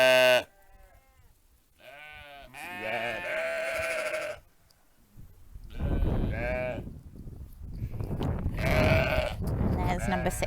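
Sheep and lambs bleat repeatedly on a farm on Fair Isle, loud and close. Several overlapping calls rise and fall across the scene, some long and quavering.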